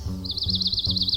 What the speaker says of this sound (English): oh, that bird is in my ear